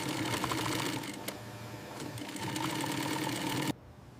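A sewing machine stitches snake leather panels in a factory, running with a steady fast mechanical whir that stops abruptly near the end, nearby and alone.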